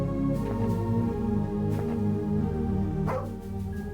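Dog barking in the video game SKALD: Against the Black Priory, a few short yips and barks over a steady layer of game music.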